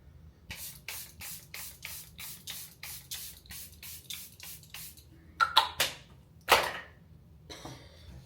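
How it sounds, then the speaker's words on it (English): A pump bottle of Charlotte Tilbury makeup setting spray fires about fifteen quick, evenly spaced misting bursts up close, then pauses before a few louder, longer sprays. "final step is the setting powder, setting spray"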